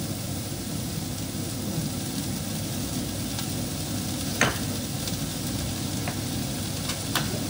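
Garlic and corned beef frying in a pan, an even broadband sizzle throughout with a few faint scrapes and taps, no one talking.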